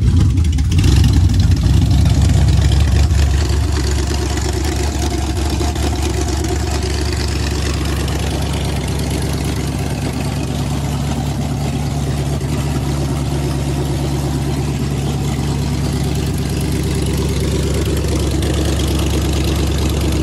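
A stand-alone OBD2 Magnum 5.2 V8 engine cranks briefly, fires up with a louder initial surge, then settles into a steady, loud, rumbling idle that continues without voices.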